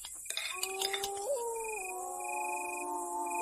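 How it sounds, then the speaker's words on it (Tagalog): Dogs howling at night in a rural sitio in Samar, long sliding wavering wails layered over each other at moderate distance, with no talk. "Umaalulong yan. Ganyan ang mga aso."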